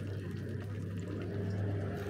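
Hot oil bubbling steadily as chips fry, a soft continuous simmering fizz heard close and alone.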